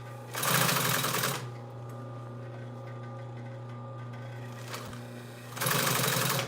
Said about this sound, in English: how much I'm focusing on these match marks when I'm sewing the mesh to the boxing